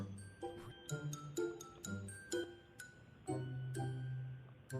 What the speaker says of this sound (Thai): นี่น่าจะเป็นเสียงนาฬิกาเลยนะ